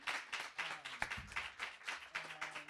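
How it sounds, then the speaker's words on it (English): An audience at a poetry reading claps for a guest poet, a brisk, fairly close run of many overlapping hand claps with a few sharper individual slaps and faint tonal murmurs underneath. "How about we clap for our guest one more time?"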